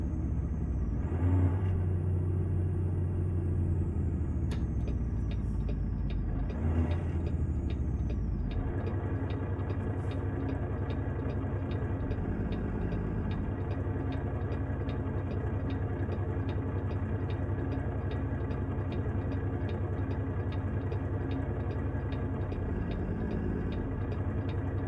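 A logging truck engine in American Truck Simulator rumbles steadily at close range, idling low and then revving a little, with brief tonal whines early on and no voices.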